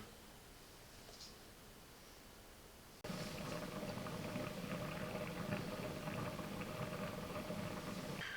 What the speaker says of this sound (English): if you can hear it starting to boil